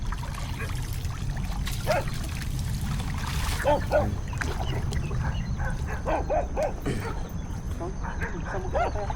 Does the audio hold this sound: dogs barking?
yes